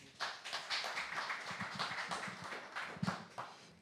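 Audience applause, a steady patter of many hands clapping together at moderate distance.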